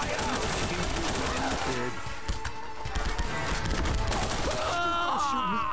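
Continuous gunfire in The Punisher on the original Xbox, dense rattling bursts packed under shouted game dialogue and groans, loud throughout with talk on top.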